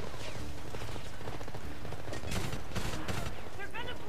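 Gunfire crackles through a Homefront campaign firefight on veteran difficulty, with dense, continuous bursts of shots and a few heavier blasts near the middle, all close and loud, while a voice talks over the action.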